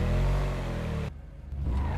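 A Ubermacht Sentinel GTS in GTA V revs loudly in an underground parking garage, a deep engine roar that cuts out abruptly for a moment before climbing back up.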